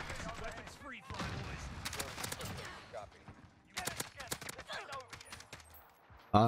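Bursts of Kilo assault rifle fire in Call of Duty Warzone, several rapid volleys separated by pauses, close and fairly loud, with someone talking over parts of it.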